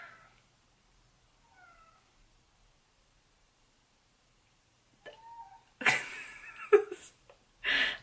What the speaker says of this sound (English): you have a crazy cat in the background